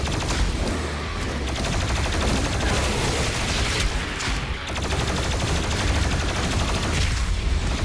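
Heavy, continuous weapon fire in DOOM Eternal, a dense unbroken barrage of rapid shots with booming low end filling the whole stretch, loud and close with barely a pause.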